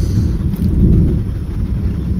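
Steady low rumble of thunder mixed with rain, a continuous heavy wash of sound without speech.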